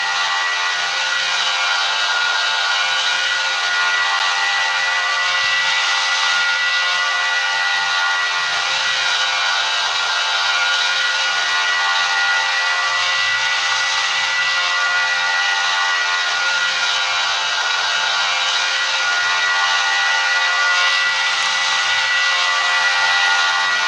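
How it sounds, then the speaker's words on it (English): Airliner engines at takeoff power in the flight game PTFS, a loud, steady broadband roar and hiss that holds constant throughout with no talk over it. "Okay, we're taking off."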